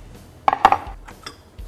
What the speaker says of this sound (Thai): เปิดมาดูนี่เราต้องเปิดฝาครับ